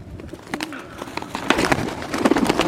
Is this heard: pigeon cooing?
yes